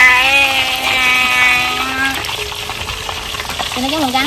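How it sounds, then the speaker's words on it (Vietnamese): Battered fish frying in hot oil gives off a steady, fairly loud sizzle and crackle for the whole stretch, with faint tonal sounds running over it. "Nhưng mà nhờ tẩm bột vậy chiên con cá nó không bị bể nhiều nè các bạn."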